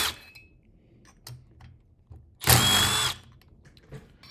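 A power tool whirs in one loud, short burst of about half a second while taking the cylinder off an Echo 6700 chainsaw, with faint clinks and handling noises before and after.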